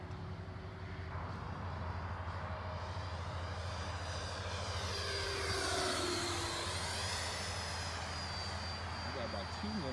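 An FMS F/A-18 RC model jet with a 6-cell battery flies at a club field, its ducted-fan whine rising and sweeping in pitch as it passes overhead, steady and moderately loud with people talking nearby.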